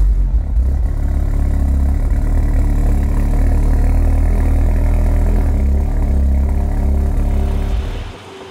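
Audi S1 Quattro, a rare rally homologation car, idling loud and close with a modified Milltec race-oriented exhaust, a steady throbbing rumble for about eight seconds that drops off abruptly at the end.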